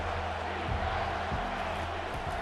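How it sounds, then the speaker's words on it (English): College football stadium crowd in the Tennessee versus Penn State season opener, a steady broad roar building before a third down play, with a few thumps and a commentator's voice faintly beneath. "This crowd knows when to bring it."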